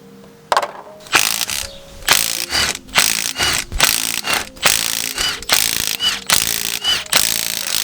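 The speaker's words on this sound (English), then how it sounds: "after undoing those 8 bolts and giving it some heavy persuasion, finally gotten this off" A ratchet loosens the bolts on a MINI differential, making loud, close bursts of rapid clicking in a steady back-and-forth rhythm, with short pauses between strokes.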